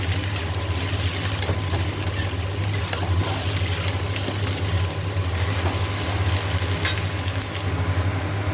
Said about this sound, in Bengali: পেঁয়াজ দিয়ে দিয়েছি, আলুগুলোকে একটু ভেজে পেঁয়াজটা ভালো করে ভাজা হয়